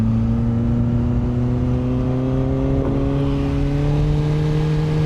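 A QJMotor SRK 921 four-cylinder super naked motorcycle revs steadily, its engine tone climbing smoothly in pitch throughout, loud and close with no talking.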